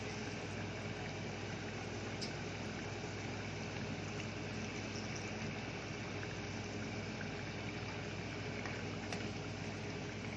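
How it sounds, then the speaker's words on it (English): A steady, dense sizzle and bubbling hiss of pork empanadas frying in hot oil, continuous and unchanging, with no voices. "It's the empanada getting fried."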